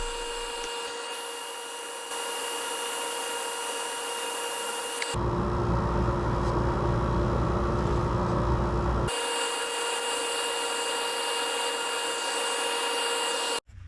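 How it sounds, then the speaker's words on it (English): A lathe whirs steadily while sandpaper from 80 up to 400 grit rasps against a spinning wooden bowl, the hiss shifting in texture across the clip as grits change, with no talking. "now we're going to get into the sanding"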